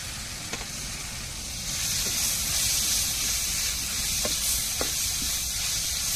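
Green chilies, mint and coriander leaves hit hot oil with ginger-garlic, and the close, loud sizzle swells into a stronger hiss after a moment, with a few faint clicks of a stirring spoon.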